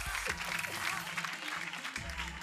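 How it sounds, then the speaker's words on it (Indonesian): An audience claps together in a dense, continuous patter of applause with a voice talking over it. "Kita kasih tepuk tangan dong."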